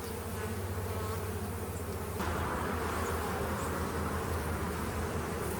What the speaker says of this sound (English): The bees make that from tree sap.